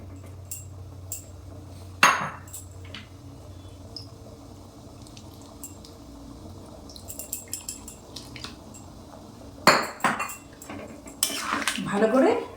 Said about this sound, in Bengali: ভালো করে নেড়ে নিলাম